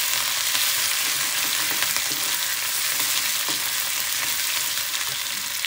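Ground masala paste and curry leaves fry in a pan for a spicy cauliflower and pea bhaji, giving a steady, loud, dense sizzle that holds evenly throughout with no voices.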